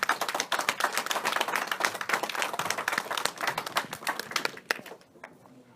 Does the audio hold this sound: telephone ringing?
no